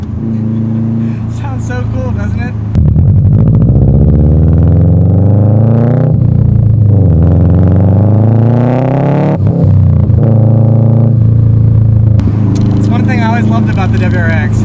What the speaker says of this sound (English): has a Megan Racing catback system, and you know, the front mount intercooler, this also has a pair-in blow-off valve, so you'll hear a lot of whooshy sounds and exhaust